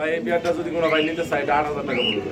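Pigeons coo softly and repeatedly at close range on a pigeon farm, their low rolling calls mixing with people talking nearby.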